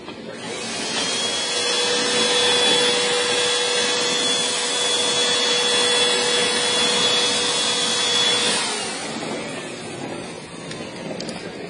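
Plasti Dip rubber coating sprayed onto a GMC Envoy for a satin black finish, a steady, close hissing spray with a faint whine that holds for about eight seconds and then tapers off.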